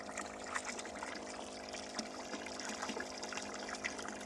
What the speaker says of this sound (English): Here comes water. I can hear it coming through the pipes.